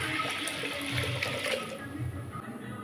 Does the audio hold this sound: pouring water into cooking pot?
yes